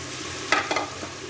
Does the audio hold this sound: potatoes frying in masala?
yes